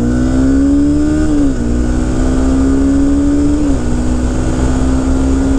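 A 2016 Honda CBR 300R motorcycle pulls away in second gear, its engine whine rising steadily with two gear-change dips, loud and close with no voices.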